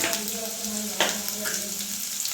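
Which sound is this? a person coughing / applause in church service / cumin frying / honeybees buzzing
cumin frying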